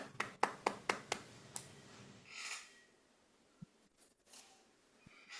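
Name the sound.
audience round of applause at Toastmasters meeting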